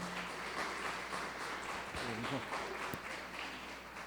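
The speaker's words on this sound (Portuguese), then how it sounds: "Eu peço uma salva de palmas para o professor Quito e a Fernanda." Applause in a university lecture hall for a professor and a guest speaker before a keynote class, moderate steady clapping with brief voices and a hum underneath.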